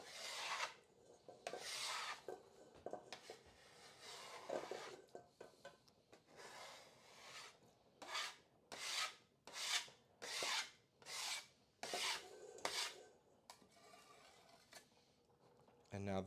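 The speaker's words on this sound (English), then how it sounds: "So I'm just going to scrape all of it off" A dirty pan being scraped clean in a sink, with steady rasping strokes that turn into a run of rhythmic, evenly spaced scrapes, close and fairly loud.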